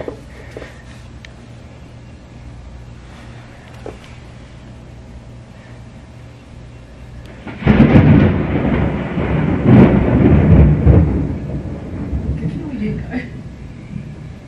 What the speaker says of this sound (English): I'll show you a bit of the storm, if I can.